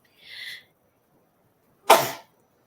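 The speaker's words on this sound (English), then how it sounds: "I think I'm going to sneeze." One sharp, close sneeze bursts out after a brief high-pitched chirp, then quiet.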